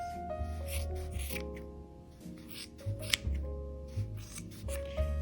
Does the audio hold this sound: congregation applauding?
no